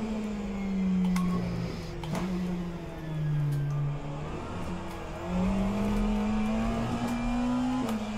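A race car engine in the racing sim rFactor 2 at Virginia Raceway drones loudly and close, its pitch climbing and dropping repeatedly as the car shifts through gears on track.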